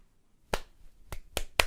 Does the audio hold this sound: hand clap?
yes